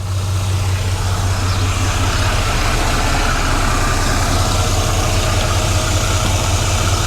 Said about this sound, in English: the truck is running, the fan is